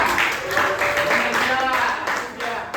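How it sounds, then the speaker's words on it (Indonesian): Classroom audience clapping for a student, a moderate continuous patter of hands with a voice speaking over it. "Oke, tepuk tangan buat dia."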